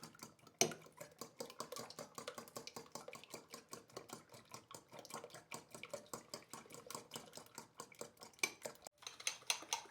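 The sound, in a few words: mixing eggs with onions in a bowl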